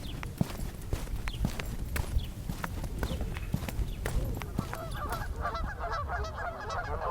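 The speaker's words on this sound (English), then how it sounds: "The familiar sound of the Canada Goose." Canada geese in an Alberta backyard honk repeatedly in a nasal chattering series, moderately close, building in the latter half over a steady background of clatter and rustle.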